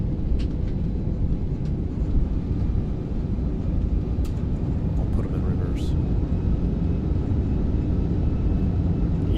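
Thrust reversers on an Airbus A340-300 in a flight simulator game, a loud continuous low engine roar that holds steady throughout, with faint clicks and brief higher sounds over it.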